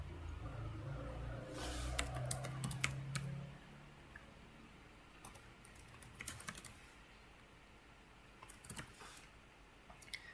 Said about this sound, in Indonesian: saya ketik ipconfig register DNS